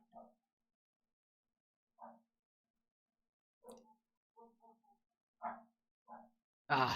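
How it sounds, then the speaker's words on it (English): Dogs barking indoors, muffled and moderately distant: single barks and short bursts spaced a second or two apart over near silence, ending in a louder, clipped noise. "Come on, dogs. You don't need to bark that much."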